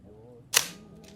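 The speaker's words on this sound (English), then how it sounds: "Listen to this shutter." A single crisp click from a vintage camera shutter, sharp and close, rising out of a quiet background hum with a faint mechanical tail just after.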